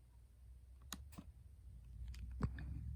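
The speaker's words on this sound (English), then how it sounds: "I'm going to click on it. And then I'm going to click open." A few sharp, close computer mouse clicks while opening a video file, three or four separate taps over a faint background hum, with no speech.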